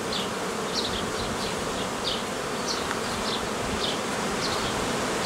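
Loud, dense buzzing of honey bees at an open hive in a Romanian apiary after the colony was moved and shaken onto new frames, a constant swarm drone with individual bees zipping past close by.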